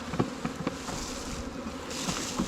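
Honey bees buzz densely at an open hive during a spring inspection, a continuous close swarm drone with individual bees whizzing past the microphone, no voices.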